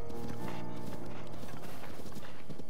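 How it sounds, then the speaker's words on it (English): Horse hooves clip-clop in Zelda: Breath of the Wild, a quick, steady rhythm of hoofbeats running continuously over a soft tonal background. "There's just a whole bunch of fucking horses here"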